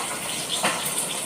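Water is poured into a pan of spices for a fish curry, a short soft splash and trickle heard close by and fairly quiet.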